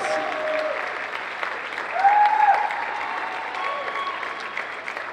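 Crowd at a cosplay competition applauds with moderate, continuous clapping that stays fairly even, swelling briefly midway, with faint voices and a short tonal whistle-like sound mixed in.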